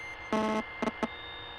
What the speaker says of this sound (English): there's like a buzzing noise